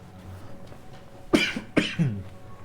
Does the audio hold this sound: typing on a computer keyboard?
no